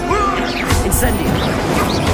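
An Incendio fire spell is cast in Hogwarts Legacy: a quick fiery burst flares up amid a dense wash of battle effects and background score, loud and close throughout.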